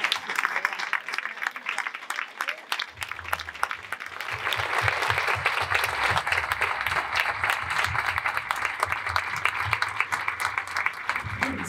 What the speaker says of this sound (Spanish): les brindan un fuerte aplauso